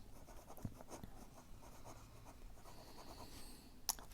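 A fountain pen nib scratches faintly across paper in short strokes, very quiet and close, with a small tap near the end and no speech.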